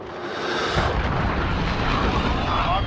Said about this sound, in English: Enemy cruise missile.